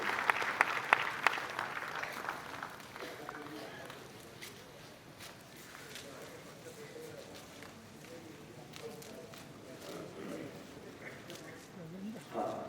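An audience claps at a calendar release during a religious gathering, loudest at first and then fading, while people talk and pigeons coo in the background.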